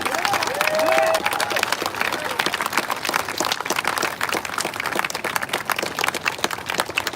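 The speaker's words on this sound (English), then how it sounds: "Hey, y'all give a big hand clap for what?" Crowd applause and hand clapping at a Portland, Oregon rally and counter-protest, dense and sustained clapping from many people outdoors, loud and continuous, with a brief whistle near the start.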